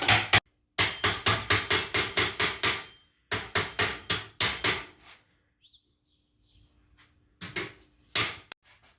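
Metal hammer blows on a rivet while building a helm, loud sharp strikes in rapid bursts of about eight to ten, then a pause, another rapid burst, near silence, and a few final strikes.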